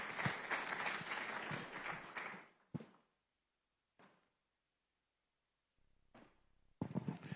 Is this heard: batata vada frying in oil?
no